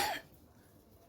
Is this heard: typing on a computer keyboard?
no